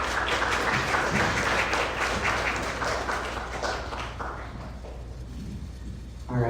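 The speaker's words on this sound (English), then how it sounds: "Everyone, please give one more round of applause" Audience applause after a youth convention speech on gun violence and domestic issues: dense, steady clapping from a crowd filling the room, fading slightly toward the end, with a brief voice entering at the close.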